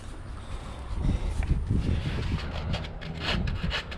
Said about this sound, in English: I'm going to need to sand down a little bit and hit that spot